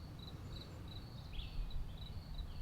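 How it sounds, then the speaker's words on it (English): Faint, steady cricket chirps repeat in short high bursts over a low background rumble, distant and quiet, on a rainy late afternoon. "it's only about 4:30 and the crickets are out"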